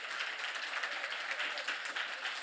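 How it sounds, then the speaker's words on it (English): An audience claps at the closing session of the SasolTechnoX 2023 event in Sasolburg, Free State, a steady even patter of many hands, fairly soft and distant, with no talk over it. "Please give them a round of applause."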